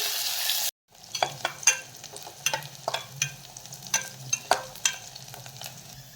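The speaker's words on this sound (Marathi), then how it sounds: "आणि कांदा यामध्ये हलकासा परतून घ्यायचा आहे।" Vertically sliced onion sautés in a pan with bay leaf, curry leaves and chopped garlic for spiced masale bhat rice. A steady sizzle sits under a series of sharp, irregular clinks and scrapes from the stirring spoon, after a brief cut near the start.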